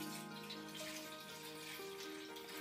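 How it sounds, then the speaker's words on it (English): Vinegar poured into a pot for a baking-soda carbon dioxide experiment, a steady close trickle of liquid running for a few seconds over a faint tonal hum in the room. "you're going to get your vinegar, pour the vinegar"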